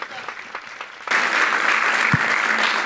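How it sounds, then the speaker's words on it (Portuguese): A burst of applause at a church service starts suddenly after a second of quieter background, loud and sustained clapping from a crowd continuing to the end. "vamos dar uma salva de palmas aos voluntários aí"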